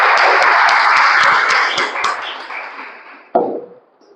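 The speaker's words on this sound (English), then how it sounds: "With a huge round of applause, can we conclude this meeting?" Applause closes a Toastmasters club meeting, a burst of clapping that thins and fades out over a few seconds, followed by one sharp knock and quiet.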